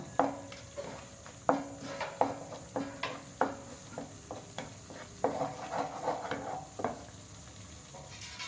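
Onion masala with turmeric and curry leaves sautéing in oil for egg gravy, a soft sizzle punctuated by a rhythmic series of spoon scrapes and taps against the pan.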